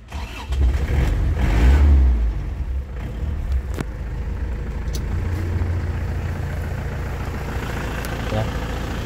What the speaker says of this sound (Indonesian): Sekarang kita nyalakan mesinnya, yuk kita nyalakan mesinnya.